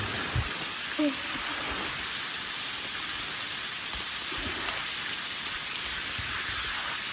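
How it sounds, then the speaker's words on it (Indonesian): Steady rain falling in a forest on a mountain trail climb on Gunung Pangporang, a continuous soft hiss of drops on leaves and ground with a few faint thuds, no speech. "Hujan."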